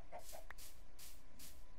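A chicken clucks indoors inside a house with a few short, faint clucks and a brief squawk over a steady background hiss.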